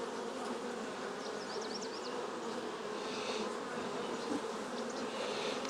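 Honey bees in an opened hive, a dense continuous buzzing hum from many insects close by, with occasional brief louder passes.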